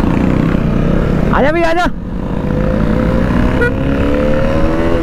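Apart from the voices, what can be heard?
Royal Enfield motorcycle accelerating at full power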